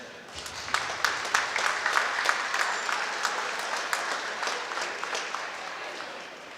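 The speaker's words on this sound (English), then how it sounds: "Round of applause for Kirsten." Spectators at a Great Northern Conference high school wrestling meet give moderate, steady applause in a gym, with scattered individual claps standing out over a diffuse crowd wash and faint voices.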